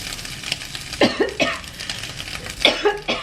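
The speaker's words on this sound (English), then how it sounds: "Every time I cook with cayenne, it makes me cough." Someone coughs repeatedly while cooking with cayenne pepper. Several short, close, harsh coughs come in quick bursts, with a brief pause between groups.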